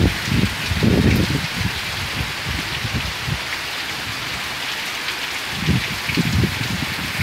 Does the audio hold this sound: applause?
no